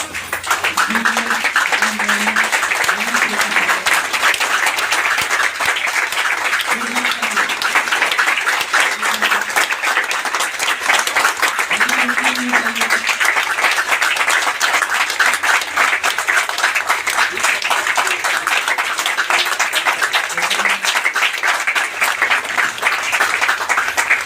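A seated audience at a motivational talk claps steadily and loudly on request, a dense continuous wash of applause sustained throughout, with a faint low hum beneath.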